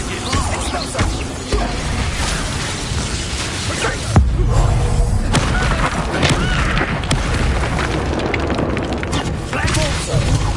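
Spell explosions and blasts in Hogwarts Legacy, with an Expulso blasting spell bursting at about four seconds amid a busy, continuous layer of combat effects, impacts and game sounds; no voices are heard.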